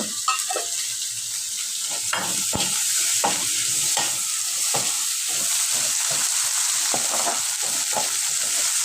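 Yardlong beans frying with dried fish in a pan, a loud, dense, continuous sizzle with repeated scraping stirs at a steady rhythm, no voices.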